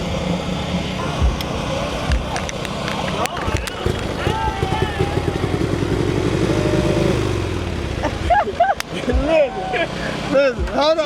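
A motorcycle engine revs in short throttle bursts, rising and falling under steady talk from nearby people at a gathering of motorcycle riders.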